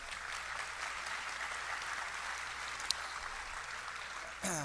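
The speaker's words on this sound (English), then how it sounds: "Let's give it a round of applause." A school district staff audience at an educational summit gives a steady, sustained round of applause, a dense wash of many hands clapping at moderate distance, swelling slightly louder at the very end.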